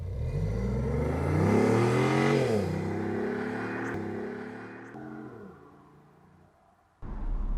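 A BMW i8 Roadster pulls away and accelerates, its engine note rising through gears in smooth sweeping climbs, then easing off into a quieter cruise before a sudden louder burst near the end.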